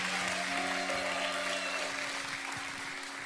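Church congregation applauding to welcome a pastor, a steady wash of clapping mixed with a sustained musical tone and murmuring voices in the background.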